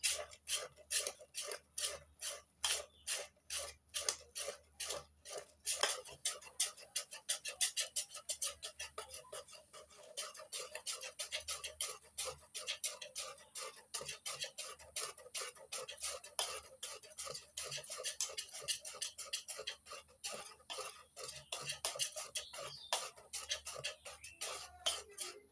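Malpua batter is beaten and mixed in a bowl with rapid, rhythmic strokes, a fast run of close tapping and scraping beats that keeps going with short pauses, no talk over it.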